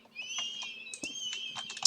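An aeroskeleton creature in a modded Minecraft game lets out a seagull-like cry, a string of thin, wavering whistled calls with short chirps.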